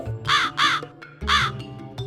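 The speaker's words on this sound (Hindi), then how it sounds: "तभी काव काव करते हुए कौवे का झुंड आया" A flock of crows caws loudly and close by in three harsh, drawn-out calls, the first two back to back, then a pause before the third, with fainter calls in between.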